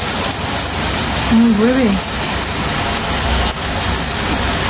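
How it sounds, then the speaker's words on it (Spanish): Heavy rain falls steadily, a loud, dense wash of noise throughout, with a person speaking briefly beneath it. "Así está lloviendo. Qué rica, ¿sabes? Buah, cómo cae por ahí."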